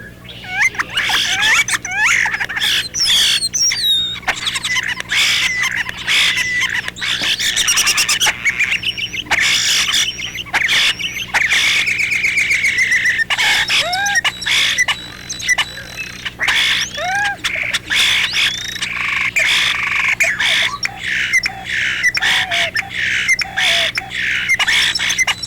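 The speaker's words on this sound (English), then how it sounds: "Like the mockingbird, the starling imitates the sounds made by other birds." A European starling sings a long, busy medley of squawks, whistles, clicks and rattles, copying a flicker's call and a robin's whinny, close and loud without pause.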